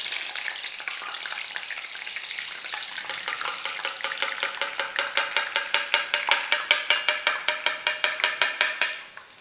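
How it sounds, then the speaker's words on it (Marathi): Boondi batter drops into hot oil over a high flame, first as a dense crackling fry that then turns into a fast, regular series of crisp tapping pulses. Near and fairly loud, it cuts off at the very end. "तेलात टाकलं की हे बघा पटकन ते तळलं जातं याचा अर्थ तेल व्यवस्थित तापलं आहे"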